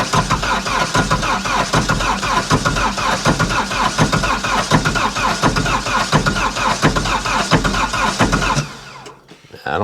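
A diesel tractor engine cranks hard and loud, chugging rhythmically as it tries to start, then the cranking cuts off near the end and only a quieter tail remains.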